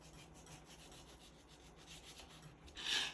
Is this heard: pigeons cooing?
no